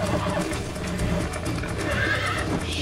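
A horse in the video game Red Dead Redemption 2 neighs and whinnies loudly over steady hoof clatter and rumbling background noise, with a continuous dense texture throughout.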